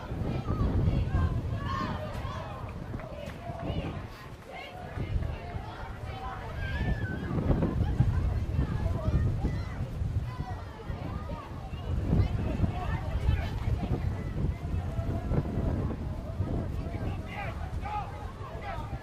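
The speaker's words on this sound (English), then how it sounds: "Wind really starting to pick up now." Strong gale wind buffeting a microphone outdoors at a high school football game, a constant loud roar and rumble with gusts, while a commentator talks over it.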